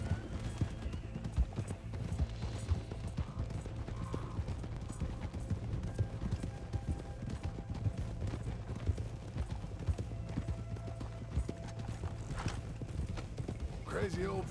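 Horse hooves clip-clopping at a steady walking rhythm in Red Dead Redemption 2, near a manor, continuous under game dialogue with a faint whinny near the end.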